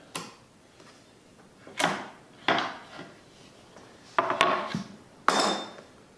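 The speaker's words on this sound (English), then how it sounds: "I'm just using my putty knife. I'm just going to pry up where I put the tape at, work it around." A putty knife prying up tape on a routed guitar body gives off several sharp scraping and clacking bursts, widely spaced and close, with quiet pauses between.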